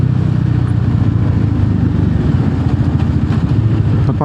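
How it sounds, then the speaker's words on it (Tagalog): A running motorcycle engine close by while riding, a loud continuous throbbing drone with slight pulsing and no talk over it. "Ganda ng motor nyo."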